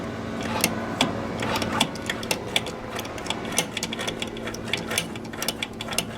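A wrench cracks loose a valve cover bolt on an engine, making quick, close, rhythmic metallic ratcheting clicks over a low mechanical hum.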